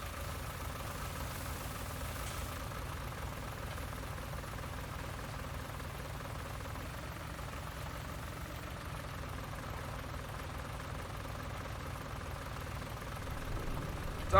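A tractor engine idles steadily at close range in Farming Simulator 19, a continuous low rumble that holds even for about fourteen seconds and swells slightly at the end.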